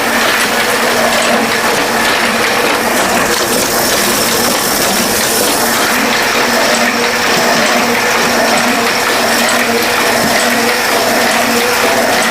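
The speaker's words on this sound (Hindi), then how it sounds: "अब ये लास्ट कार्ड बचा है जिसका कवर प्रिंट हो रहा है।" An offset printing machine runs while printing wedding card covers, giving a loud, steady mechanical clatter with rapid repetitive rattling throughout and no voices.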